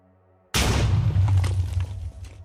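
In Minecraft, a sudden loud boom erupts from a lower floor after near silence, followed by a rumbling, crackling decay lasting about two seconds.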